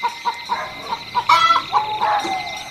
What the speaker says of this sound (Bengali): কি ব্যাপার, এত রাতে বাড়ির হাঁস মুরগিগুলো এত ডাকাডাকি করছে কেন?